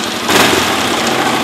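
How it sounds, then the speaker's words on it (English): A Linhai 400 Big Horn ATV engine catches on the starter and settles into a steady, close, loud idle with a buzzy mechanical drone and no talk. "You pull your brake in and just mash the starter button, and it should start right up."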